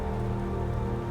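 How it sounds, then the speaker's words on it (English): Steady rain falls hard on surfaces around Minnesota homes during a motorcycle tour, a dense, even hiss that continues unbroken throughout, with no talking. "it's raining pretty good now."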